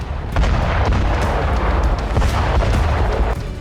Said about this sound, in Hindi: लीमन में रूसी सेना ने भीषण रॉकेट स्ट्राइक की।